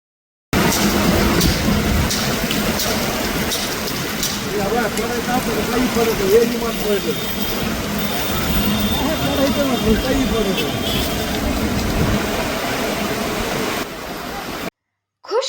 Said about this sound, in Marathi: शहरीत अचानक वादळ वारे आणि धोधो पावसानं राहतातील आठवडे बाजार मधील व्यावसायिकांची चांगलीच तारांबळ उडून दिल्याचं दिसून आलं आहे